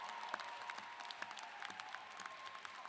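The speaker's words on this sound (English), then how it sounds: "Let's give them a round of applause." A commencement audience applauding graduates at a ceremony, a continuous spread of distinct claps heard from a distance, fairly quiet.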